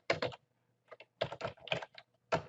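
Computer keyboard typing while entering link text for an email campaign: quiet bursts of rapid key clicks separated by short pauses, close by and with no talk.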